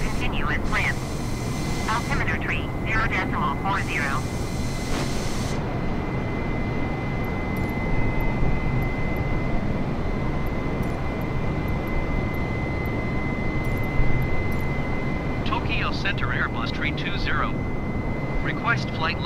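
Airbus A320 climbing in Microsoft Flight Simulator over Japan, a steady broadband engine and airflow roar with a faint high whine, heard alongside intermittent radio-style chatter.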